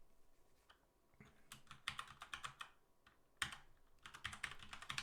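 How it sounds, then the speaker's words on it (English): Keys clatter on a computer keyboard in quick bursts with short pauses in between, close and clear, and no voice is heard. "So watch when I type."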